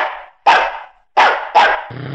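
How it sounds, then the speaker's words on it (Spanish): A small dog in a Spanish-language animated science adventure gives three or four sharp, loud barks in quick succession, close up, ending in a brief low growl, with no speech. "¡Ya cállate, perrito!"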